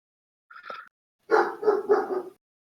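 A dog barks once at moderate distance, then follows with a louder cluster of three quick barks, with no talking over them.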